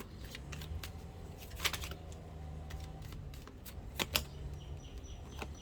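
Tarot cards are shuffled and drawn by hand in a quiet room, with light papery flicks and a few sharper snaps, close and soft with uneven spacing.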